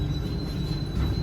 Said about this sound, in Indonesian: sekitar 10 menit lagi kereta ini akan tiba di stasiun Sukabumi